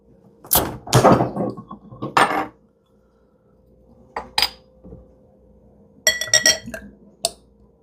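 A Newcastle beer bottle pried open with a fork: bursts of sharp metal-on-glass clinks and scrapes, close and crisp, separated by quiet pauses, with no talking.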